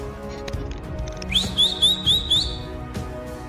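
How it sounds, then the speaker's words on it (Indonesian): A man whistles to call back his dog after two months away, a series of five short rising whistle notes in quick rhythm, fairly close over a quiet background. "Dia bersiul dan dengan kecepatan penuh sang anjing berlari kepadanya."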